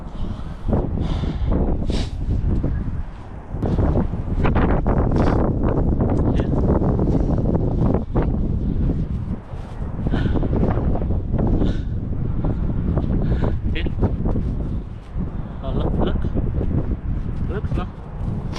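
Strong gusting wind storm buffets the microphone during an outdoor run in snowy Canadian weather, a loud continuous roar with rushing surges and brief dips, with a person talking over it.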